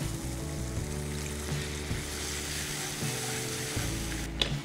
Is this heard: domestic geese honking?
no